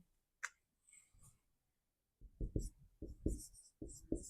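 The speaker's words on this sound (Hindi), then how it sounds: "चलिए तीनों पॉइंट लिख दे रहे हैं।" A pen scratches and taps on paper as notes are written by hand for a class lesson, with short quiet strokes first and then a denser burst of close scribbling, no talking.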